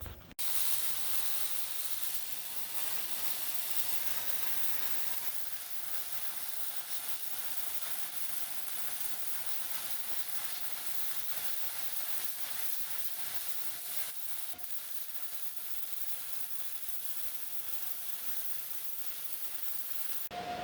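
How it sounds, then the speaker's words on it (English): MIG welding on the ends of a steel frame arch for a Ford F100 truck, a steady, continuous crackling hiss that holds evenly for about twenty seconds with no speech. "We'll go ahead and weld up the ends right now."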